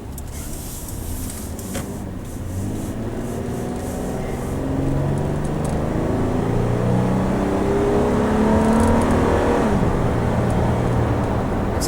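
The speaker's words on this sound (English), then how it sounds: "So that was a 3/4 acceleration, basically 10 to 60." A 2015 Toyota 4Runner Limited accelerating from 10 to 60 at three-quarter throttle, engine heard from inside the cabin rising in pitch through several gear changes, loud and steady with no talk.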